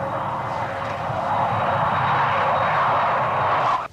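A Piper Navajo propeller aircraft on approach drones loudly and steadily overhead, building slightly in strength before cutting off abruptly at the end.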